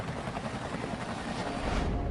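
A helicopter evacuates the last Americans from the US embassy roof in Vietnam, its rotor and engine making a steady, dense roar that swells slightly near the end, with no voices.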